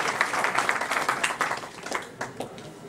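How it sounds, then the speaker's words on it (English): A room full of people claps steadily, a busy patter of applause at moderate distance that thins out toward the end. "Please give a big round of applause to this young chartered accountant."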